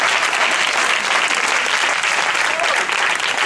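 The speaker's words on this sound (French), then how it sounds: "On acclame le Seigneur de ça." A church congregation claps and cheers in sustained, dense applause at an evening worship service, loud and continuous throughout with a crowd filling the room.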